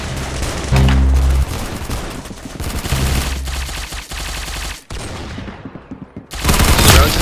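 Rapid gunfire rattles through a round of the Roblox video game Arsenal, with loud bursts of automatic fire and single shots. The sound is dense and close, then drops into a short quieter gap before another loud burst.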